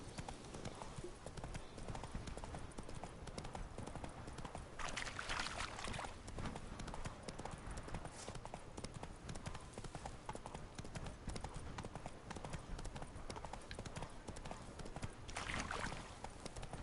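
Horse hooves clip-clop steadily at a riding pace in The Witcher 3: Blood and Wine, a continuous rhythmic clatter that runs the whole time over a dense, busy game soundscape.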